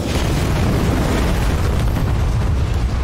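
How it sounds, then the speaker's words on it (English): Explosion of a destroyed enemy building in the real-time strategy video game Halo Wars 2, a dense, loud, sustained booming roar filling the whole stretch with no clear pauses. "Destroyed an enemy building."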